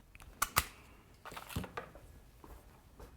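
Snips cutting cake support dowels down to height while decorating a 3-D seated pony unicorn cake, giving two sharp close clicks early on, then a softer snap and scattered faint handling noises.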